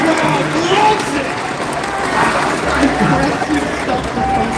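A crowd at a Clash Royale League esports event cheers and applauds steadily, a dense roar of clapping and voices that holds throughout, with commentary mixed in.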